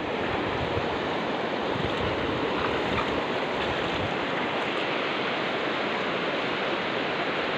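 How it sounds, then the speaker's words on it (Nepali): A swollen stream, risen suddenly in a flash flood, rushes past in a loud, continuous broadband roar of churning water that stays near and unbroken throughout. "खोलो त एक्कासी आयो यार पानी बढेर"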